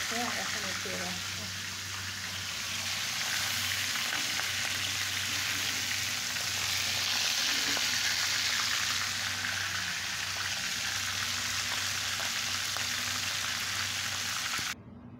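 Pangas fish frying in oil in a pan, a loud, steady, close hiss and sizzle running continuously with a low hum beneath, ending abruptly.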